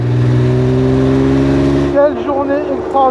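A Porsche 910 race car's engine revs hard, a loud, full mid-pitched roar holding steady for about two seconds before it drops off to a lower, uneven idle, heard close up and without speech.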